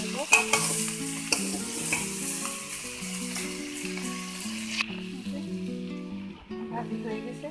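Malabar spinach seeds stirred as a bhaji in hot oil, a steady sizzle with spoon scrapes under background music; the hiss drops away partway through while the music continues.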